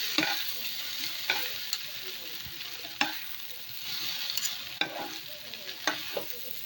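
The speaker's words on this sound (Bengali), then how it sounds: "দেখো মশলার সঙ্গে নুডলসটা আমি এখন ভালো করে মিশিয়ে নিব।" Noodles tossed with Maggi masala in a hot pan give a soft, constant sizzle punctuated by several sharp spatula scrapes at irregular intervals, fairly quiet and without speech.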